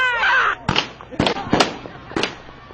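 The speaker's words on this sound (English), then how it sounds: "I believe it's a gun battle between the Six Guns and Shady Ladies." Gunshots ring out in a staged gun battle during a Thanksgiving parade, four or five sharp, loud cracks spaced irregularly, with crowd voices and chatter around them.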